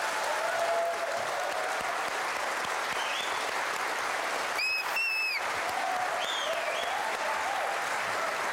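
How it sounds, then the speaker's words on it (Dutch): Studio audience at a Dutch television lecture show breaks into a big round of applause, continuous clapping with scattered whistles and cheers riding over it. "Mag ik een groot applaus, Erik Scherder!"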